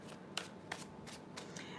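Tarot cards being shuffled by hand during a live full moon reading: a few soft, separate riffling bursts spread over two seconds, quiet and close, with no voices.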